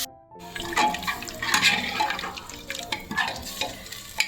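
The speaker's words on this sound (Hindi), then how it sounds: "इसमें पानी और ऐड करूँगी मैं" Water is poured into a pan of porridge (dalia), a steady close splash and hiss with light sizzling as it hits the hot pan, and no talk over it.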